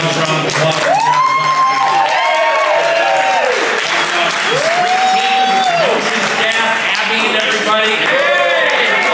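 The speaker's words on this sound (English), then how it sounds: "can I get a witness in a raucous round of applause?" Studio audience at a live sports talk radio broadcast in Oakdale, Minnesota gives a raucous round of applause with cheering, a dense continuous roar of clapping with whoops rising over it and voices talking through it.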